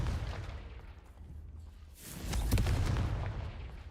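The Confringo spell in Hogwarts Legacy goes off as a sudden fiery blast. A loud boom and crackle rise out of a quiet lull and then fade into rumbling debris.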